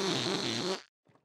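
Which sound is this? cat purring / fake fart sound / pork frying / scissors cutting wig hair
fake fart sound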